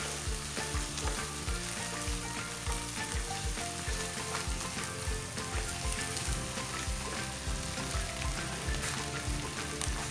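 Ham frying in a pan for a tuna and ham carbonara, a steady close sizzle with crackling spatters and occasional stirring scrapes, no talking.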